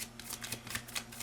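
Tarot cards being shuffled, a soft, quick series of papery riffles and flicks, close and quiet, with no talking.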